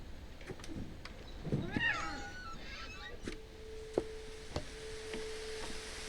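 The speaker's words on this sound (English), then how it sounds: "I heard a cat." A single drawn-out cat meow from a video game rises and falls, followed by a faint tone and a few soft clicks in a quiet background.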